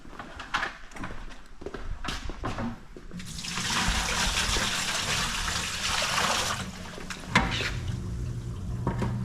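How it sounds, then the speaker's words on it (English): Hot water gushes steadily from a sink tap after an on-demand water heater flush, a loud broadband rush that swells in the middle and continues with splashing and clatter, no one talking. "we're gonna run some hot water"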